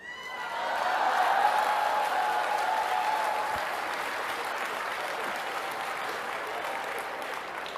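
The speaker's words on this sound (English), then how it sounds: "Notice how all the women are laughing and clapping." An audience of women claps steadily in a room during a talk, the dense applause swelling in the first seconds and then continuing evenly to the end, with a little laughter folded in.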